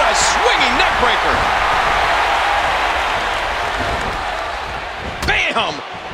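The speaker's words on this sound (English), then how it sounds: "Oh, what a swinging neck breaker." In an arena wrestling match for the World Heavyweight Championship, a swinging neckbreaker slams a wrestler to the mat. A loud crowd roars throughout under excited commentary voices, with a sharp impact and crowd surge near the end.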